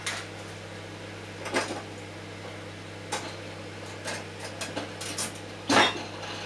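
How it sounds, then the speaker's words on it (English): A running microwave oven hums steadily with its tray not seated properly, giving irregular clinks and rattles over the drone, with a sharper clatter near the end. "I think that's just the tray that's not on properly."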